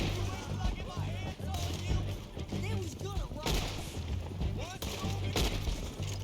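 Gunshots in the video game Red Dead Redemption 2, several sharp reports scattered through a busy game mix of rumble and ambient noise, fairly distant and moderate in level.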